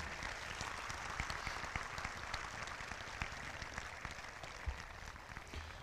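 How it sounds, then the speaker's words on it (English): Applause at a high school graduation ceremony: a large audience claps steadily in a broad hall, the sound fairly soft and distant, a dense even patter without voices. "Let's please give them a big round of applause"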